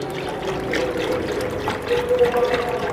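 Water poured steadily into kadhi batter of gram flour and stirred together in a bowl, a continuous soft trickle and slosh close by with faint mixing clinks, no voices.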